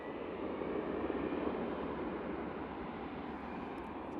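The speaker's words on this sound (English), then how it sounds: "Should get this Easyjet out, and then we can totally concentrate on the Emirates A380. A320 CEO now going." An easyJet Airbus A320ceo taking off at Manchester Airport, a steady, broad jet engine roar holding at a constant level throughout with no voices.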